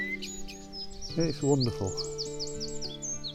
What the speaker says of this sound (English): there's been a blackbird just at the side of us, just filling the air with its beautiful song